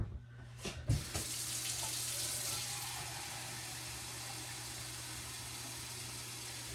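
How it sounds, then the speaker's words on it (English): Tap water runs steadily into a pot for Zuppa Toscana soup, a continuous close splashing rush after a couple of brief clunks at the start, with a low steady hum beneath. "I'm just going to be adding water"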